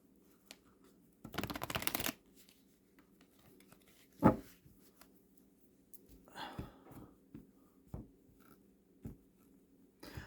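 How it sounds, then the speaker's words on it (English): A quick burst of tarot card shuffling up close, followed by quiet handling, soft taps and faint rustles, with low breathing in the background. "Right now, we are going to shuffle up this deck."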